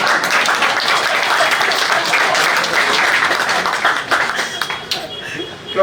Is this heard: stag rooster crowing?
no